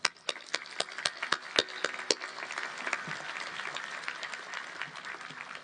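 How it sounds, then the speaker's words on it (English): An audience at a high school graduation claps in applause, sharp individual claps standing out early before settling into a steady, moderately distant patter of hands that continues throughout. "let's give them all a round of applause."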